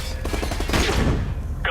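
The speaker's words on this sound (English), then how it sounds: "Flashbang out." A flashbang grenade goes off in the Call of Duty: Modern Warfare Remastered campaign, a dense burst of blasts and gunfire crackle swelling near the middle amid game noise.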